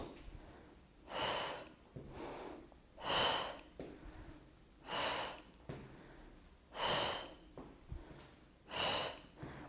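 Slow, deep breaths in and out during a pregnancy inner-thigh exercise, about six audible breath cycles evenly spaced, close and soft with no talking.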